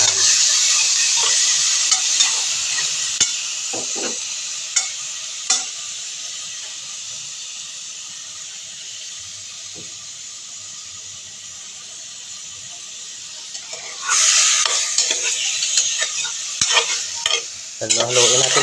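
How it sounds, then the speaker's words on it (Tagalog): Chicken for sinigang na manok stirs and sizzles in a hot pot with onion, a steady bright frying hiss broken by scraping clanks of the spoon against the metal. "Haluin natin para hindi dumikit sa kaldero."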